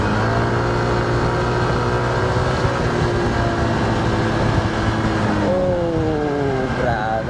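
Heavy road traffic heard while riding a Honda PCX 160 motor scooter: a loud, steady engine and road rumble throughout, with vehicles passing close and a rising tonal whine near the end.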